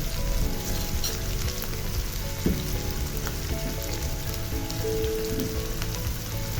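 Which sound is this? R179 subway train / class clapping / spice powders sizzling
spice powders sizzling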